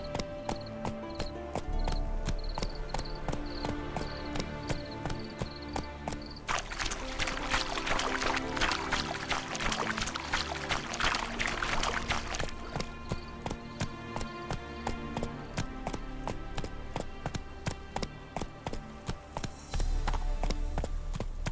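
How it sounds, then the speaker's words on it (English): Roach, the horse in The Witcher 3, trots with steady rhythmic hoof clip-clops and a shifting rush of ambient noise and music in the game world, the hooves clear throughout. "Spooking my horse. Roach doesn't like ghosts."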